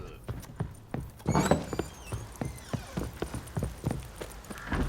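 Roach, a horse in The Witcher 3 video game, gallops with a steady, close clip-clop of hooves, with a brief whinny-like effect and a short spoken line over the hoofbeats.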